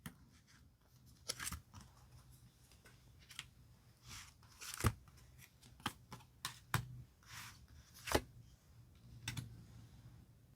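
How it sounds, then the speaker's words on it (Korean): Tarot cards shuffled and picked one by one: irregular crisp snaps, slides and taps of card stock, close and fairly quiet, with no talking. "카드 5장을 선택해 볼게요"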